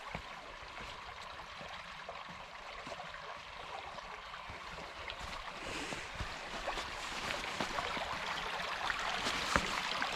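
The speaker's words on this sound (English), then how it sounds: "Check out this cool creek here." A creek flows along a forest trail with a faint, steady wash of running water and soft trickling that grows slightly louder toward the end, heard from nearby.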